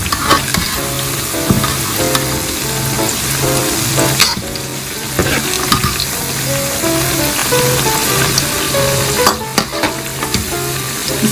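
Chinese pakoras fry in hot oil in a kadhai, giving a steady, close sizzle with stirring and utensil scrapes, while a rhythmic low hum runs underneath; no one speaks.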